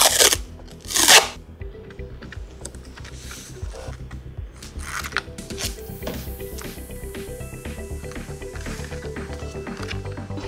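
Duck Tape transparent tint tape being pulled and pressed onto paper to cover a gift box, giving irregular crinkly, crunchy rustles and a couple of louder rips near the start, close up and continuous.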